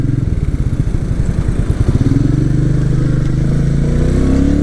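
A Royal Enfield Meteor 350 single-cylinder engine thumps loudly and close while riding in first gear, its rapid pulsing beat rising in pitch briefly before settling into a steady drone.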